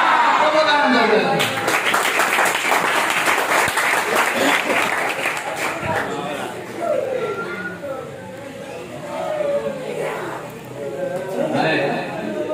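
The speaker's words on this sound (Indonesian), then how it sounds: "Tepuk tangan dulu." Sustained applause from a room of school students at an integrity-values class, broad and steady for several seconds, then thinning slightly with scattered claps and chatter mixed in before swelling again.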